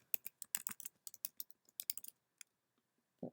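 Quick typing on a computer keyboard, a burst of close, crisp key clicks followed by a few spaced taps and a final heavier key press.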